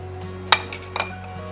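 A frying pan is set down with a short metallic clank close by, followed by a couple of lighter clinks, over a low steady kitchen hum.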